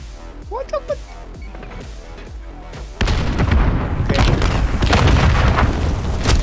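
A sudden loud stun grenade blast in Call of Duty: Modern Warfare game audio, followed by a sustained ringing, muffled roar that persists for several seconds.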